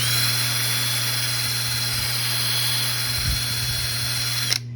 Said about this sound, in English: And then what you do is you should just take your drill